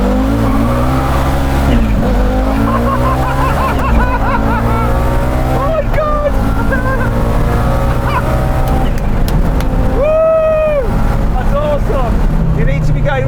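A loud Audi Quattro engine roars continuously at high speed during a drag race, revving and shifting pitch, with heavy wind and road noise and a voice shouting under it.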